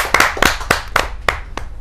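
An audience at a Kavi Sammelan poets' gathering claps to welcome poet Sunhari Lal Verma Turant, giving sharp, close, distinct claps in a loose rhythm that thin out toward the end, with no talk.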